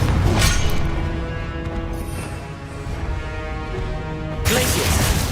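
A Confringo blasting spell goes off in Hogwarts Legacy, a loud crashing, smashing burst that sounds near, then fades into ringing tonal residue before a second bright burst near the end.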